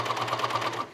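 Coverstitch sewing machine running elastic thread through flat fabric for ruching, a steady close mechanical whir with a fast rhythmic needle clatter that winds down at the end.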